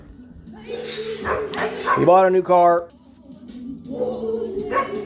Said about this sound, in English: I think they're barking at a cat out there.